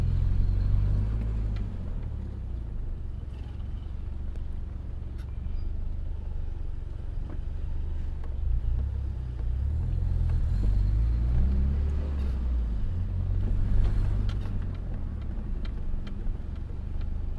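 A Mitsubishi Eclipse driven at low RPM in second gear gives a low, uneven rumbling drone with occasional ticks and irregular surges from an engine misfire and jerking, heard from inside the car without talk.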